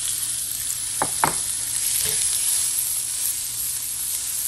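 Onion and ginger, added with a little cumin, saute in a pan for a portobello mushroom sauce, making a loud, constant hiss and sizzle with a couple of brief stirring scrapes partway through.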